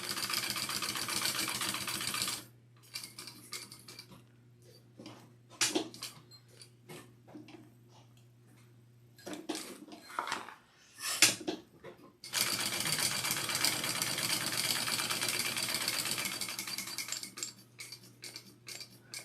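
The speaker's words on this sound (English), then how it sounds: "All right, so we want to just sew this, top stitch." A sewing machine top-stitching a Sue Sue Sling runs in long steady whirring stretches, broken by short pauses filled with small clicks and handling noises, close and moderately loud, no talking.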